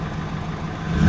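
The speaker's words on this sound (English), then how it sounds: "Give it a little rev." A car engine idles close by with a low rumble, then begins to rise as it is revved at the very end.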